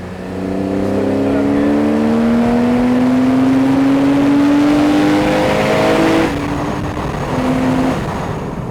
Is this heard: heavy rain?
no